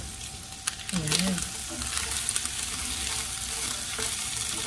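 Chicken feet sizzle steadily in hot oil flavored with onion, a close, continuous frying crackle with a few stirring clatters, while a person speaks briefly over it.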